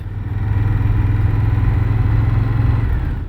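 An Indian Scout Bobber Twenty motorcycle pulls in second gear with a loud, close, steady low engine drone that swells slightly and holds for a few seconds.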